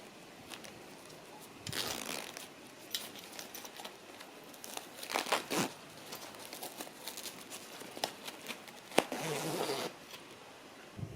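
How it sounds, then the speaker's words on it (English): Several quick zipper pulls on a EURMAX 10x10 canopy come in short bursts, separated by pauses filled with rustling fabric, close by and fairly quiet. "Here's my last zipper connection."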